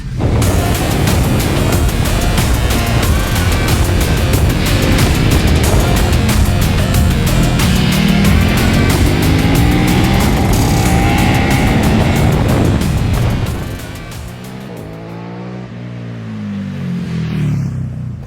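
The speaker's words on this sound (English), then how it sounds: "your right wrist connected to the throttle, and the screaming twin" A KTM 1290 Super Duke R twin-cylinder motorcycle engine revs loudly and repeatedly for about thirteen seconds, then drops away to a lower, throbbing burble as it eases off.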